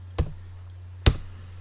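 Two sharp, separate keypresses on a computer keyboard, close and distinct, while a command is typed in AutoCAD Mechanical 2010, with a steady low hum underneath.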